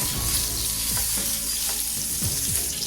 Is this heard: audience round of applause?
no